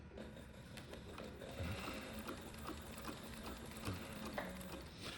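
Sewing machine stitching a leather patch onto a hat, a quiet steady mechanical whir with rapid needle ticking and occasional pauses as the hat is turned, no talking.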